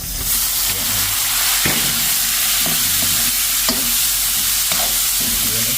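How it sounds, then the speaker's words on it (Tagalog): Meat and tomato fry in a little oil, giving a loud, steady sizzle and hiss, with a spatula scraping the pan every second or so, close up. "Iprito natin yung karne. Binawasan po natin yan ng mantika. Lagay na rin natin ang ating kamatis."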